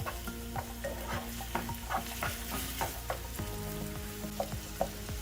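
Chicken breast pieces seasoned with salt, pepper and paprika are stirred in a hot pan for a quesadilla filling, giving a steady close sizzle broken by repeated spatula scrapes and taps, with no talking.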